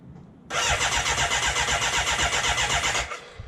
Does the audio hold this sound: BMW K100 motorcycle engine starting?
yes